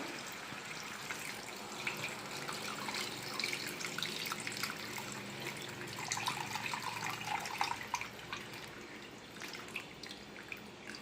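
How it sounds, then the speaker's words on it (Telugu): Tamarind juice poured into a pot of small-fish tamarind curry makes a steady, close liquid splashing and trickling that runs almost the whole time, without talking. "ఇప్పుడు చింతకాయ రసం వేసేసుకుందాం అందులో"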